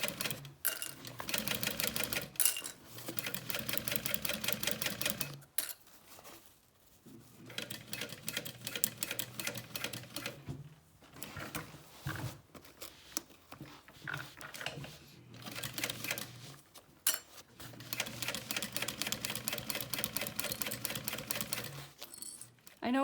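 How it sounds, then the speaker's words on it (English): A sewing machine stitches across the topper of a bag near the grab handle. Close, rapid rhythmic clatter comes in bursts of several seconds separated by short pauses. "Sewing over the topper here,"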